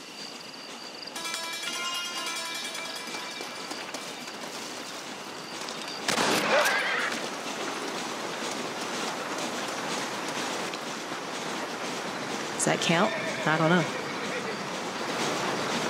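A train in the Red Dead Redemption video game rumbles past with a rhythmic clatter and a couple of sharp bursts, while a player talks over it.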